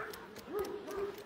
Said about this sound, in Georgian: სხვა ძაღლების ყეფას